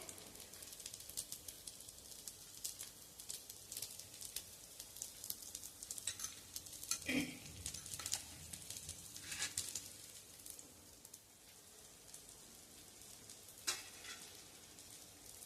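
Corn tikki frying in oil in a pan over a raised gas flame, giving a steady low sizzle throughout with occasional louder crackling bursts, and no talking.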